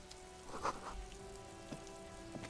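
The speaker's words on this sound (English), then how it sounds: "And it's raining" Steady rain in the video game Disco Elysium patters softly and continuously in the background, with a few faint tonal blips over it.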